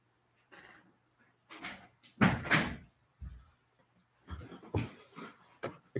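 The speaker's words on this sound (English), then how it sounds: "let me close my door" A door is shut indoors, heard as a short series of quiet bumps, scrapes and a firmer thud spread over a few seconds in an otherwise hushed room.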